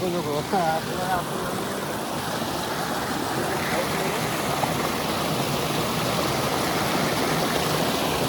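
Steady, full rushing of a small waterfall fills the whole stretch, loud and unbroken, with a brief voice near the start.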